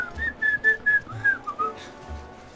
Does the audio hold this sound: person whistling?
yes